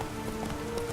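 Galloping hooves of the horse Roach in The Witcher 3 video game, a quick steady clip-clop rhythm running through one second over a constant background tone, with no talking.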